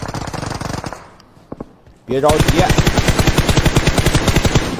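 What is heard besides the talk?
gunfire in the video game PUBG Mobile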